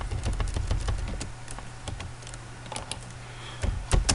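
Rapid typing on a computer keyboard, a steady run of close, crisp keystrokes with short pauses and a brief flurry at the end.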